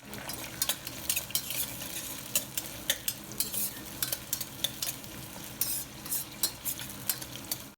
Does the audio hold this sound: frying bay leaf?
yes